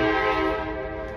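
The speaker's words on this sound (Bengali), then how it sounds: "এখানে ট্রেন যাচ্ছে" A train passing near Stone Mountain in Georgia sends out a loud, steady, horn-like tone that fades slightly over about a second.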